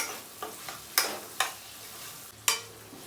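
Dal and ridge gourd are stirred in a pan over a faint sizzle, with a handful of sharp, separate knocks of the spoon against the metal spaced irregularly across a few seconds.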